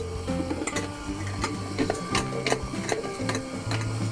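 A Zolele JM101 vegetable and fruit juicer runs with a fairly quiet, steady motor hum and rapid, irregular ticking and clattering from the mechanism as it grinds.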